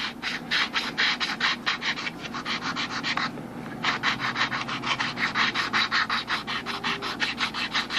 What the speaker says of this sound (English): we can get in there with the sanding block